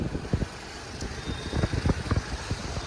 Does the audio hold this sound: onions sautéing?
no